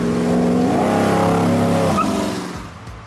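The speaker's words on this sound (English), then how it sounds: "The Chrysler 300F boasted a formidable 413 cubic inch V8 engine, delivering around 375 horsepower." A Chrysler 300F muscle car with a 413 cubic inch V8 revs hard, a loud, rich, rising engine roar that holds steady, then eases off and fades slightly toward the end.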